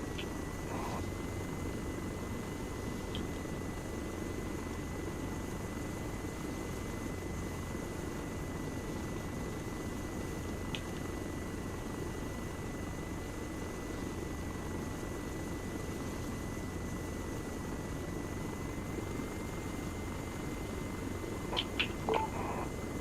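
Helicopter in the Arma 3 military game, a steady rotor and engine drone running throughout at even, moderate loudness, with a few faint clicks near the end.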